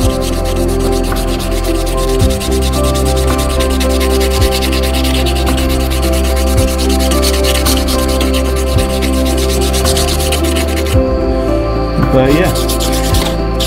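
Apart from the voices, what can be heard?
hand sanding wooden knife scales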